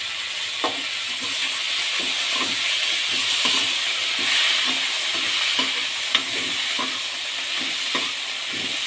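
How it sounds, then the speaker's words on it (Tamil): Curry leaves, mint and coriander sautéing in hot oil, a steady close sizzle with stirring scrapes and small pops recurring throughout, no talking. "கருவேப்பிலை புதினா கொத்தமல்லி எல்லாமே போட்டு நல்லா எண்ணெயில் வதக்கிடணும்"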